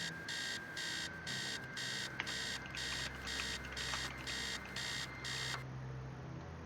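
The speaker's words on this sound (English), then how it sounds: "Upstairs, the sound of an alarm clock blaring." An alarm clock blares in the video game Stories Untold, a loud electronic beep pulsing in even repeated bursts about every half second before cutting off near the end.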